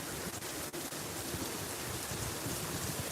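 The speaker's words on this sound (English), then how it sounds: "It's raining more again." Steady rain falls outdoors in Norway, a broad, even hiss of drops that persists without pause, with a couple of faint ticks early on and no talking.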